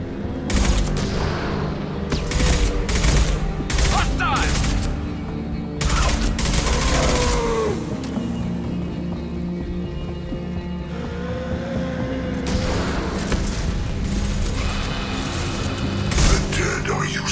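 Hostile gunfire in Mass Effect 2, with loud bursts of rapid shots coming in clusters and pausing between them, under a low rumble and occasional voices.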